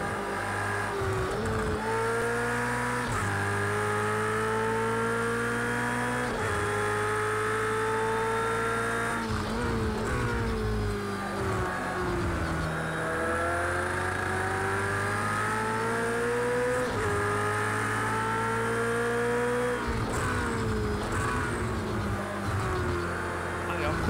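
Race cars battling at close quarters in Project CARS 2, a Porsche chasing an Audi with a Mercedes nearby, engines whining loud and continuous with rising and falling pitch through gear changes and braking, under occasional talk.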